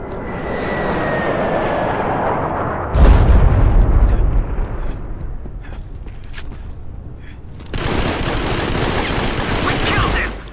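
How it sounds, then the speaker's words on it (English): An airstrike and gunfire in the video game Modern Combat 5 on a construction site map, with a loud blast and rumbling, scattered sharp shots, and a second surge of heavy noise near the end. "Airstrike, find cover."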